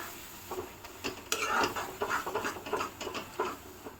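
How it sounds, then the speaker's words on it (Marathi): Masala for kurma being roasted and stirred in a pan, with a steady scraping rhythm of spoon strokes over a faint sizzle, close and alone. "मसाला आपल्याला चांगला व्यवस्थित भाजून घ्यायचा आहे"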